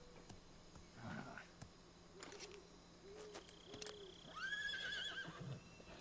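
A horse whinnies in a rising, quavering call near the end in Metal Gear Solid 3: Snake Eater, amid scattered game sound effects and soft thuds.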